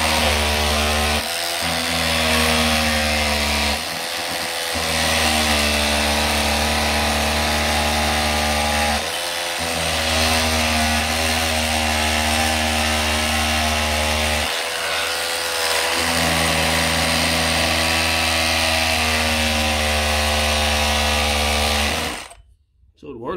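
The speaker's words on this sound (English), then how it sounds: "that's how to make the most basic oscillating tool out of the most basic grinder on Amazon" A cheap grinder fitted with an oscillating tool adapter runs loud and steady for about twenty seconds, buzzing with a strong droning hum and a few brief dips in speed, then cuts off at the end.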